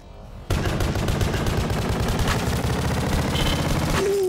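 Rapid automatic gunfire from a gun in a video game, a loud continuous stream of fast, evenly spaced shots that starts abruptly and keeps going without pause.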